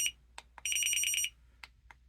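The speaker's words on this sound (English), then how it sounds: "We have the alarm." Alarm mode of a Jugbow DT-61 dog training collar: a series of shrill electronic beeps, a few isolated chirps around a rapid burst of about seven quick pulses, close and clear.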